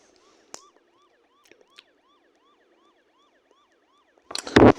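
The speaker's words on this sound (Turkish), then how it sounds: "Şarkı gibi siren yapmışlar yemin ediyorum." A quiet, repeating police siren in a car simulator video game warbles in a steady rhythm under a few small clicks, ending with a sudden loud burst of noise.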